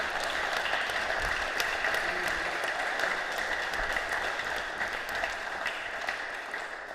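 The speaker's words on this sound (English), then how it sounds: "Let's applause that." Steady, sustained applause from an audience gathered at a squash memorial event, a continuous wash of many hands clapping at moderate distance without a break.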